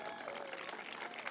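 Audience applause honoring the Shirley Chisholm family at a state park announcement, a steady wash of clapping at moderate distance, fairly quiet, with a faint tonal hum running underneath.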